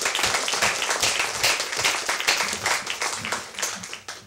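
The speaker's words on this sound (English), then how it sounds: "Another round of applause for all of our panelists." An audience at a debate event claps for the panelists, a lively, uneven patter of hands that swells and then tapers off near the end.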